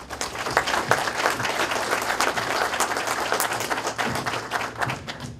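Audience applause at a company kickoff event welcoming a corporate executive speaker, a dense, steady burst of many hands clapping, loud and sustained with no talk over it.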